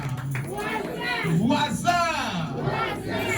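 A church congregation cheers and acclaims together during a worship service, overlapping raised voices and shouts swelling in a loud, dense crowd roar close by.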